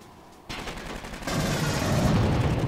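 Rapid automatic gunfire in the Aliens: Colonial Marines video game, aimed at fuel tanks around an APC. It starts after a brief quiet, then swells into a dense, loud, continuous barrage that grows heavier partway through.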